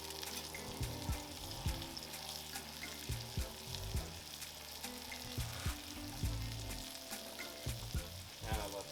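Garlic fries in a pan with a faint, continuous sizzle, punctuated by soft knocks and scrapes of stirring at irregular intervals, with no talk.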